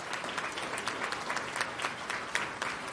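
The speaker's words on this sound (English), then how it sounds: "Give a round of applause for those guys." A crowd applauds at the closing ceremony of the USA Jigsaw Nationals puzzle competition, dense continuous clapping from many attendees with scattered sharper claps, steady and moderately loud throughout.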